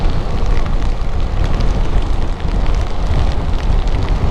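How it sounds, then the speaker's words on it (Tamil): Heavy monsoon rain pours steadily during a motorbike ride toward Ooty, a loud continuous broadband roar of rain and wind with no pauses or talk. "அப்படியே ஃபுல்லாக மழை தான்."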